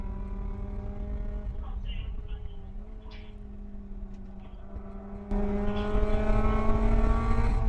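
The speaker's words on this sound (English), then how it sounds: "you can hear that Miata, that Mazda engine churning away out here in Austin, Texas" A Mazda MX-5 Miata race car engine drones steadily at Circuit of the Americas in Austin, Texas, heard from trackside under wind noise and commentary, growing louder near the end.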